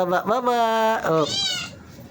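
A cat gives a loud, drawn-out meow close by, then a second shorter, higher cry, while people talk around it.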